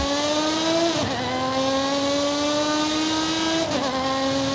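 A Lotus race car in Forza Horizon 5 screams up through the revs in two long climbing pulls, with a brief dip at each gear change, loud and close.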